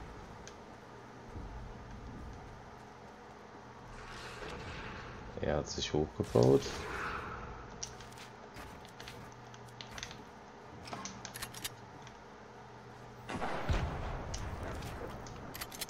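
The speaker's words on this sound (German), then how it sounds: "Ich höre trotzdem links auch Schüsse." Gunfire in a Fortnite arena match, a few scattered shots and bursts heard from off to one side over a steady game backdrop, with a player talking at times.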